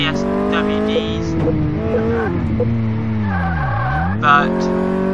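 A Honda Civic driven in Car Mechanic Simulator 2018 revs loudly with whining engine tones that rise and fall, dipping sharply then climbing again, alongside brief tire squeal.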